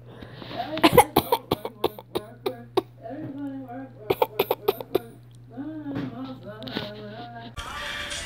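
Repeated short fake coughs and throat-clearing bursts in quick clusters, close up, mixed with brief vocal sounds and a steady low hum.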